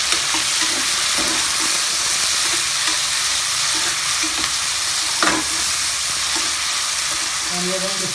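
Natu tomatoes tumble into a pan and are stirred, hissing and sizzling steadily up close for several seconds, with a brief sharp clatter of the spoon partway through and no voices.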